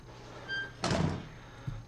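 A door shutting in the horror video game Outlast: one solid thunk with a brief rattle, loud and close, followed by a smaller knock.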